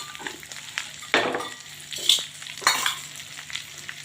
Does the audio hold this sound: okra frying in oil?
yes